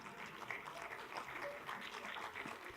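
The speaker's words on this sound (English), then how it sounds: "People are starting to clap." Scattered applause from a conference audience at a data science talk, soft and somewhat distant, building as more people begin to clap through the whole stretch.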